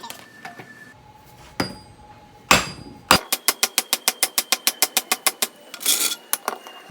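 A hammer smacks a half shaft into place on a 240SX fitted with 350Z parts, the differential pulled out: a few scattered blows, then a fast, steady run of about fifteen sharp metallic strikes, close and loud.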